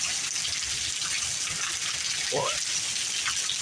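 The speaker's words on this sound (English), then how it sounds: "Just watching the rain, bud." Heavy rain falls steadily during wild weather with hard wind gusts, a dense constant hiss and rush close by, while someone speaks briefly over it.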